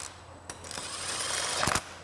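An electric tool runs bolts into a Vespa GTS engine during final assembly, giving a close whirring mechanical buzz that builds steadily with a few sharp clicks and knocks, no one speaking over it.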